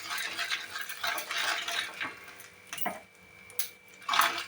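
Turmeric and salt are mixed into oil in a pan with a metal spoon, making quiet scraping and a few light clinks. The oil is for frying fish roe for a pineapple chutney.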